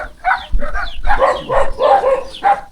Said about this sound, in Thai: โอ้หมากระเห่าแล้ว